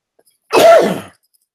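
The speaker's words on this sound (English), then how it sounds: "Excuse my cough." A single loud, close cough, short and harsh, standing alone in otherwise silent surroundings.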